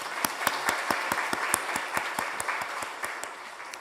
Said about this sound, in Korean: 우리 주님께 박수를 올리겠습니다